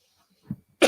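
A single sharp, close cough from someone with a bad cold bursts out after a brief soft throat noise, loud against otherwise silent surroundings.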